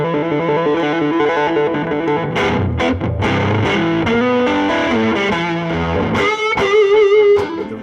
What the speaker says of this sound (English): When you click in the overdrive circuit, it's not the tube screamer sound that you get off of a pedal.